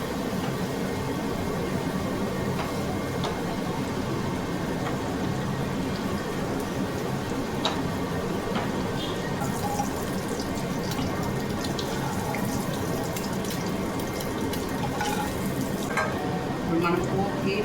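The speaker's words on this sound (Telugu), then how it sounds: "కోడిగుడ్డులో ఉండే స్మెల్ అనేది పోతుంది ఇలా వేయించుకోవడం వల్ల." Eggs fry with salt and turmeric in a pan, giving a steady, dense sizzle that runs unbroken from start to finish, close and moderately loud, with occasional sharper crackles and no voice.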